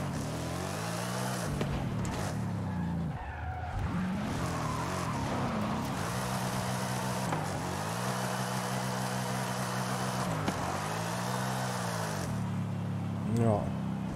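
Engine roars and shifts through the gears as a Corvette drifts in Forza Horizon 5, played on a Thrustmaster T300 RS GT wheel, with steady revving and tire noise and someone talking over it.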